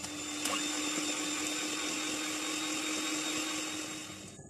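Electric beater whirring steadily as it beats eggs with a little vanilla essence, a constant motor drone held near throughout before spinning down at the end.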